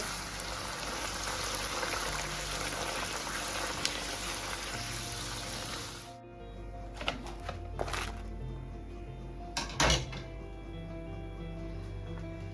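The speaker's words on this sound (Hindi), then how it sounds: "गर्मा गर्म ऑयल में जब आप पूरी डालेंगे" Puri dough dropped into hot oil crackles and bubbles in a dense, steady fry that fills the first half, then gives way to a quieter stretch marked by a few sharp clinks and knocks.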